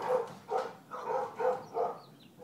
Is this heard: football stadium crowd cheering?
no